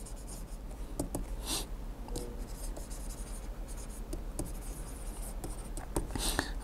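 Chalk or marker taps and strokes while an equation is written during a combinations maths lecture, short clicks and scratchy bursts coming irregularly over quiet room tone, with no talking.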